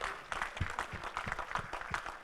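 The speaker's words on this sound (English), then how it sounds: "Big round of applause." Audience applause follows a talk at a teachers' conference, a dense patter of hand claps that stays fairly even and moderately loud for a couple of seconds.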